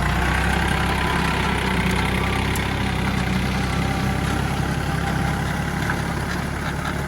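A walking tractor's engine runs steadily while plowing raised rows in a cassava field, giving a loud, continuous, close-up chugging drone with no pauses and no voices.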